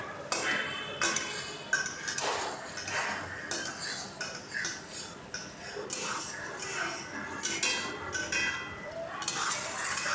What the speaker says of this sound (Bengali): আলুর সঙ্গে মশলাগুলো আর একটু কষিয়ে নিচ্ছি।